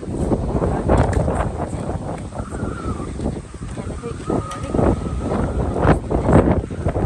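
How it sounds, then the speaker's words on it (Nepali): Steady wind buffets the microphone with broad rumbling gusts throughout, while faint honking and a distant voice come through underneath. "हावा चलेको छ"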